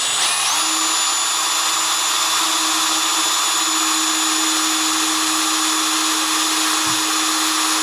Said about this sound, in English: Now we've marked our holes already, so we're just going to drill right here where we marked.